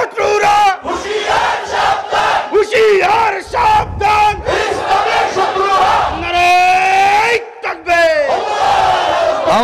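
A large crowd at an Islamic religious gathering in Sylhet roars a loud chant of Allahu Akbar in unison, answering a leader's call of Naraye Takbir, with the massed voices repeating in long swells close and overwhelming.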